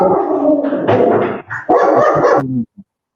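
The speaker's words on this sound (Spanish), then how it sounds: "se enojó el perro" A dog barks in a rapid run of loud, close, overlapping yelps and barks for about two and a half seconds, ending with one short faint yip, with no talking.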